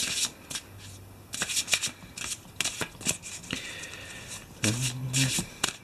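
Eldritch Horror investigator cards being shuffled by hand in quick bursts of riffling and sliding, close and crisp, with a short hum and brief tones in between.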